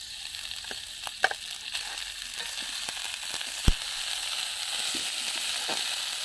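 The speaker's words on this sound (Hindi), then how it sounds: "अब इसमें डालेंगे पुलाव और डालकर अच्छे से भुनेंगे।" Pulao rice with peas sizzles steadily while it is fried and roasted in a hot pan for a festival thali, a close, continuous crackle with a few sharp pops and stirring clinks, and no talking.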